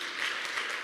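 A church congregation applauds, a brief steady wash of many hands clapping at moderate distance.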